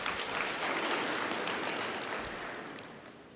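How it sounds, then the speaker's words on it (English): A crowd claps during a regional state address honoring sports winners, broad steady applause that gradually fades in the last second or so. "We can also clap for them."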